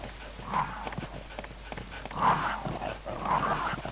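Snarling, barking attack dogs in the Resident Evil video game on hard difficulty near the guardhouse. Three rough bursts of growls rise over the game's ambience, with light tapping steps between them.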